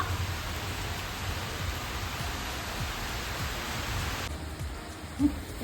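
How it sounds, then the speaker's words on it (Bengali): Heavy rain falls under a fully overcast sky, a steady, even wash of noise that holds throughout with no talk, and a single brief knock just before the end. "জাস্ট একবার বৃষ্টির গতিটা দেখো"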